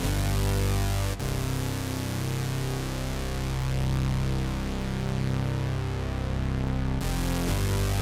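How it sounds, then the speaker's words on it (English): Sustained synthesized brass chords from a Roland JD-Xi ring out alone, a dense, bright wall of held tones that shift once after about a second and again near the end, loud and continuous. "synthesized chords that sound like this when it starts."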